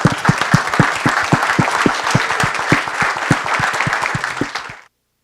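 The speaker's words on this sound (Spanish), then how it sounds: "quisiera pedirles que le demos un aplauso a los panelistas" Panel audience applauding the panelists at the close of a workshop session, a dense steady burst of many hands with sharp individual claps standing out, loud and sustained before stopping abruptly.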